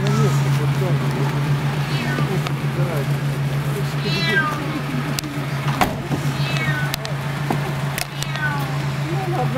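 A cat meows several times, clear rising and falling cries spread across the stretch, over a steady engine hum and road noise inside a vehicle.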